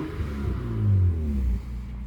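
A Honda Prelude, V6, running with the muffler cut off and just a tip on the exhaust, gives a deep, rough close-up rumble that swells briefly as the engine revs, then settles back to idle.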